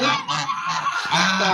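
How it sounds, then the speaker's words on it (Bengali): Loud, close honking of seven geese, several birds calling over one another in harsh, nasal bursts without a break. "7টা রাজা হাঁস।"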